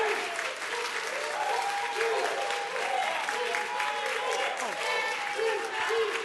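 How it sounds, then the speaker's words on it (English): A crowd at a public legislative committee hearing on raising the minimum wage claps steadily and warmly, with voices and cheering mixed into the applause throughout. "Okay, polite applause will be fine."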